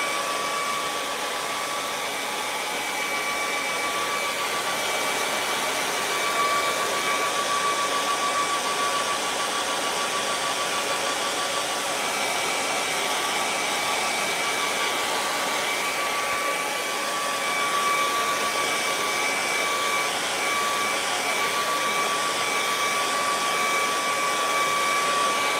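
A hair dryer blows steadily over wet acrylic paint on a snowy mountain landscape painting, a loud, continuous whooshing roar with a faint whine that holds unchanged for the whole stretch, with no talking.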